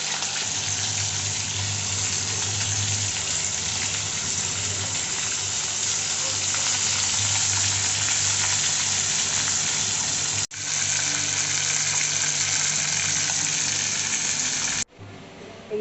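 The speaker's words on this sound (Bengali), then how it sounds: "এবার মাছ রান্না চলছে" Mustard fish curry cooking in a pan gives a loud, steady close-up hiss and bubble that carries on without pause, broken only by two brief dropouts near the end.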